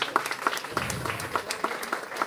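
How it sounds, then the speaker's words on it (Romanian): Audience applause at an anniversary concert, a fairly quiet, scattered clapping with distinct individual claps standing out at a steady pace. "Vă rog să o aplaudați."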